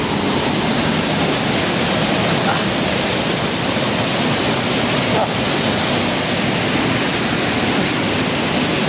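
Strong water rushing continuously past a jeep, a steady broadband roar that fills the whole clip without pause.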